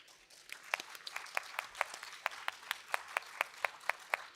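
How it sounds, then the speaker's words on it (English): An audience claps in a burst of applause at the close of a tech summit panel on Africa's climate transformation, with sharp, fairly regular hand claps over a soft wash of further clapping, at moderate distance and no talk. "A big round of applause to them."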